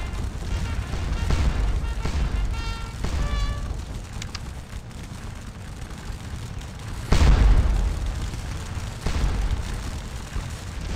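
Napoleonic cannon fire at Waterloo in Scourge of War: Waterloo, with several deep booming shots over a constant battlefield rumble, the loudest blast hitting midway and another following shortly after.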